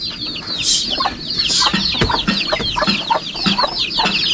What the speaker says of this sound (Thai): โอ้ไก่ตัวใหญ่แล้วเนาะไก่เนาะ